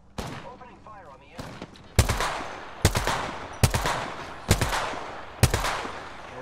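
Gunfire from the video game Apex Legends: an opening stretch of clustered shots followed by five loud, evenly spaced heavy reports roughly a second apart, each with a ringing tail, near and dominant.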